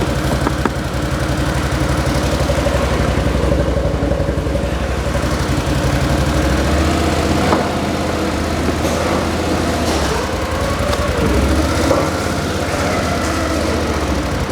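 A 2025 Gen 3 Can-Am Outlander XMR 1000R ATV engine turns over and settles into a steady, throbbing idle, loud and close, running continuously without any talk.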